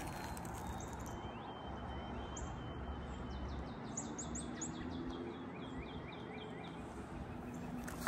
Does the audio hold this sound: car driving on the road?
no